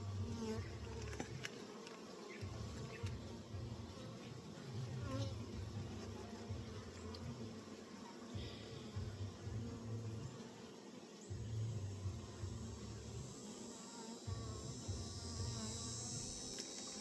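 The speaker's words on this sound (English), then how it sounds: "I do see bees coming in with pollen." A dense, continuous hum of many honey bees buzzing close by at a hive entrance in a greenhouse, individual insects droning past over a steady background.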